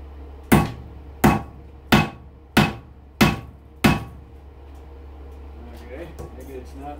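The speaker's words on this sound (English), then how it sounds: "Get a bigger hammer." Six loud, sharp metallic hammer blows on metal held in a vise ring out at a steady pace, each decaying quickly, followed by a low hum and faint clatter.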